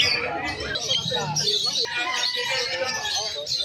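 Budgies at the Malabon pet market chirp and twitter in a busy chorus of short high calls, mixed with other birds and crowd chatter, with people talking nearby.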